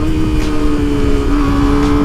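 Kawasaki ZX25R motorcycle exhaust fitted with a DB killer, a loud, steady high-pitched four-cylinder drone held close up with a slight rise in revs, no voices.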